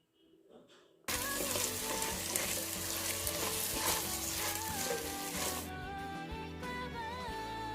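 Tomato with salt, turmeric and bisi bele bath powder fries in a pan for Mysore-style bisi bele bath, a loud close sizzle that bursts in after a quiet second and keeps crackling steadily.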